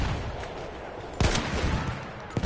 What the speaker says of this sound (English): Feindliches MG am Süden!